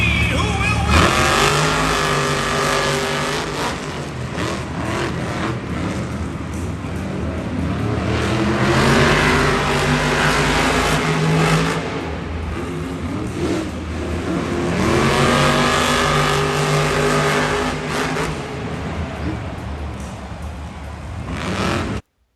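Monster trucks race side by side around a London arena course at a Monster Jam event, their engines roaring and revving loudly in long surging waves under continuous commentary.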